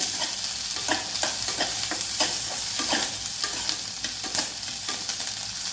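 Chopped capsicum is sautéed in a hot pan, a dense continuous sizzle overlaid with quick rhythmic scraping and clacking strokes of a spoon as the pieces are mixed, close and fairly loud throughout.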